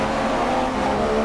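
A Formula 1 car in the racing game F1 2016 at the Abu Dhabi circuit, its engine a loud, steady, high-pitched whine that holds nearly constant pitch throughout, heard up close with no voices over it.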